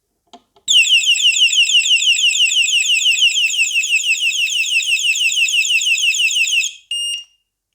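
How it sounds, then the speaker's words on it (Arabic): A loud electronic anti-theft bike alarm siren, triggered by shaking, warbles continuously for several seconds after a couple of faint clicks, then cuts off into a short steady tone. "وده كان صوت التنبيه والسرينة الفضيحة اللي هي عملتها"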